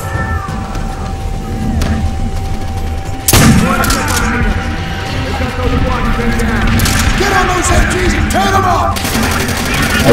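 Machine gun fire in Call of Duty: World at War rattles in dense, sustained bursts with booming impacts. It grows heavier after an abrupt loud onset, and a voice talks over the shooting.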